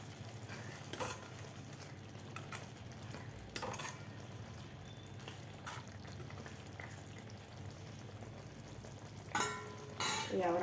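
Mushroom masala being stirred in a pan after crushed kasuri methi is added, with a steady low sizzle and a few soft scraping strokes of a spoon against the pan, close and fairly quiet throughout.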